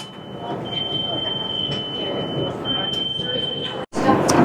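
Riding inside a moving train in Florence, Italy: a steady loud rumble of wheels and carriage noise with a thin high squeal running through, cut briefly near the end by a sudden drop.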